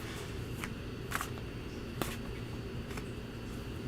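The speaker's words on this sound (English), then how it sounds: "I'm going to shuffle up a couple of my decks" Soft riffling of tarot cards being shuffled, a few brief flurries spaced about a second apart over a low background hum.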